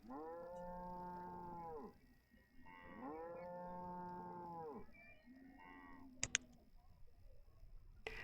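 Cattle moo in the city-building video game Banished, two long drawn-out lowing calls in a row followed by a shorter, softer one, clear and close with a faint ambient hum behind them.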